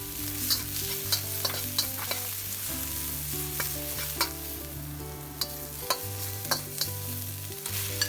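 Scallions and other aromatics stir-fried in hot oil for salt and pepper shrimp, a steady sizzle with spatula scrapes clicking regularly against the wok beneath background music.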